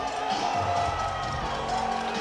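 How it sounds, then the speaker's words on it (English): A crowd at a powerlifting meet in Houston cheers and murmurs continuously as lifter Angelo comes out for his first 285-kilo squat, a steady wall of noise with scattered whoops. "The crowd's getting hyped up for Angelo"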